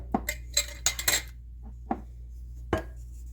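Changeable measuring scoops measure out baking soda, making a run of sharp little clinks and taps. They come in a quick cluster, pause, then sound twice more, close and clear against a quiet kitchen background.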